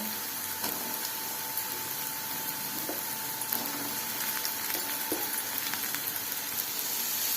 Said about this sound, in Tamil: தக்காளியை சேர்த்ததும் புல்லில் வச்சு ஒரு ரெண்டு நிமிஷம் நல்லா வதக்கி விட்டுட்டு